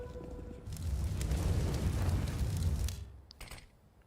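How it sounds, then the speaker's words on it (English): Grenade blasts in Counter-Strike on the Train map mid area, a deep rumbling boom swelling over about two seconds, loud and close, then fading into quieter game ambience. "Double nade in towards T mid."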